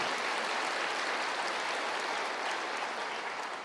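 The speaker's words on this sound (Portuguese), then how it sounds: "Pode aplaudir, se você tem vontade de se expressar" Church congregation applauding during a sermon, a dense, steady wash of clapping hands that holds at an even level throughout, with no voices rising above it.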